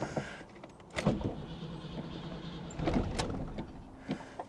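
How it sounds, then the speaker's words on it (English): An old car's engine sputters and chokes out, followed by a few strained cranking bursts and revving attempts that fail to catch, heard close and moderately loud with no talking. "Oh, it's choking out. It died."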